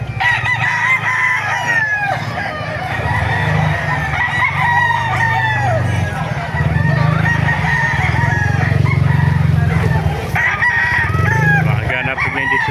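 Roosters crow repeatedly at the Baliuag market, with several long, overlapping cock-a-doodle-doo calls near and far, over a busy background of murmuring voices and crowd noise.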